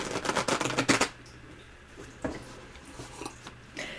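Tarot cards are shuffled in a quick burst of crisp riffling for about a second. A few scattered soft taps and card slaps follow in the quiet, close by and with no talking.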